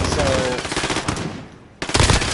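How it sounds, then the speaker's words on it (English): Suppressed submachine gun firing in Call of Duty: Modern Warfare, loud rapid automatic bursts with a short pause before another burst resumes. "Alright, time to show off this new SMG. Now, granted, mine is suppressed"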